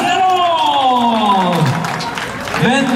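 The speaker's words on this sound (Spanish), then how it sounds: "se merece un aplauso al jinete" A crowd at a ranch-style jaripeo rodeo in Lachirioag applauds and cheers a bull rider, the clapping and crowd noise spread out beneath a loud announcer's voice.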